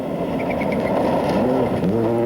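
Carlos Sainz's Ford Focus rally car at the 2000 Cyprus Rally, its engine running loud and steady with revving pitch changes across a broken, rough stage.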